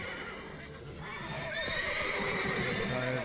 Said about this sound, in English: These horses are really loud.